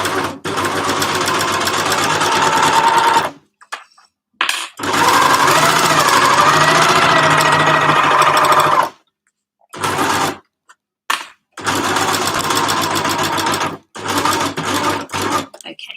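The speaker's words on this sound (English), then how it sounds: "I'm just going to sew right down to the end" An overlocker stitches a waterproof drawstring bag in several long, loud, steady bursts of rapid whirring, broken by short pauses and brief restarts.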